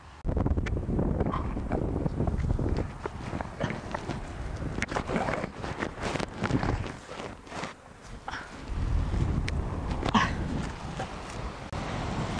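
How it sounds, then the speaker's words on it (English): Gusty wind buffets the microphone in loud, uneven rumbling bursts, with occasional light knocks and rustles. "it's nice and windy up here."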